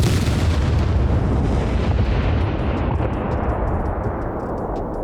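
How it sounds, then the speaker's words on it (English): A stack of about eight C4 charges detonates at once in the video game SCUM, a loud, continuous deep roaring blast that rumbles on for several seconds and slowly fades. "It's like 8 C4 destroying these things."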